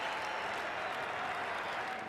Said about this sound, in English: getting very well applauded off the ground